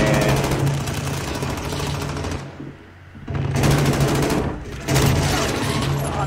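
Loud continuous automatic gunfire in the Call of Duty Modern Warfare video game, rapid bursts with a short lull in the middle, a steady hum underneath, no talk.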